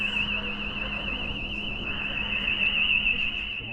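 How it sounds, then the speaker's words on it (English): An alarm sounds on a town shopping street in Newcastle-under-Lyme, a steady warbling electronic tone that wails continuously and loudly over low street noise for the whole stretch. "Someone set off an alarm."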